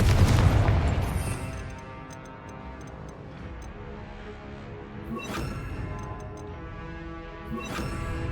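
Confringo fire-spell explosions from a Harry Potter video game open with a heavy boom. Quieter rumbles and ticking follow, then two more bursts land with crackling tails.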